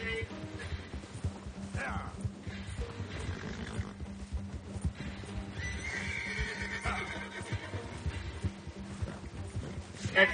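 A horse in the Red Dead video game neighs and whinnies over a busy game soundscape while a player talks excitedly over it.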